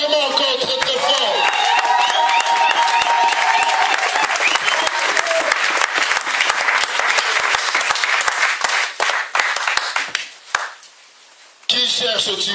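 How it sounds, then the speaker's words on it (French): A church congregation claps loudly and densely with cheering mixed in, a sustained roar of applause that dips briefly near the end before swelling again. "Si Jésus est Seigneur, acclamons encore très très fort."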